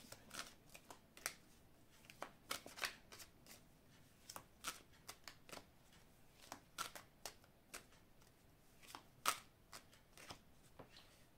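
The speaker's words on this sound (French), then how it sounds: "je vais couper, je vais étaler les cartes" Oracle cards of a large love oracle deck are shuffled by hand in a steady run of crisp riffling flicks and soft slaps, close and fairly quiet, with no talking.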